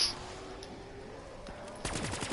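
Rapid automatic fire from the Dingo light machine gun in Black Ops 3 Zombies, a dense steady rattle through the clip that grows louder and harder near the end, with no talking over it.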